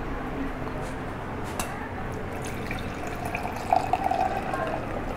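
Wine pours steadily into a glass for a few seconds, a soft trickle close by, with a voice talking over it.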